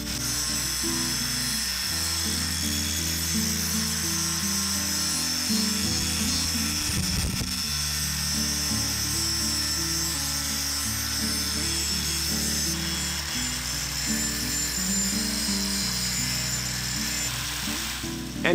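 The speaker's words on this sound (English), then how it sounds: "Next, scrubbing off the old paint." An angle grinder whines steadily and loudly as it strips old paint off an axe head, with a brief change in load midway and no talking.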